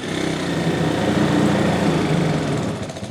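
A cheap, busted dirt bike engine runs in gear, a loud, close buzzing drone holding steady for a few seconds before dipping slightly at the end.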